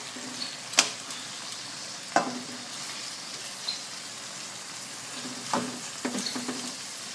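Marinated pork tenderloin frying in a pan, a quiet steady sizzle broken by a few sharp clinks and scrapes spaced several seconds apart, with no talking.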